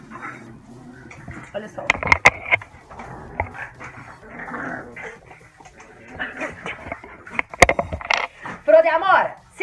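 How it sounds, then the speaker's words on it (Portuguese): Dogs squabbling and whimpering indoors, with sharp yelps and whines breaking through over a woman's ongoing speech, several loud bursts scattered across the stretch. "Meus cachorros resolveram brigar?"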